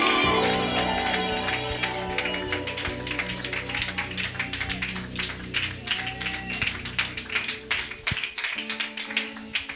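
A church crowd cheers and shouts in acclaim for an elderly prophet as he comes forward, with dense clapping and voices over a steady music bed, the loud mix thinning toward the end.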